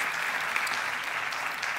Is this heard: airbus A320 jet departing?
no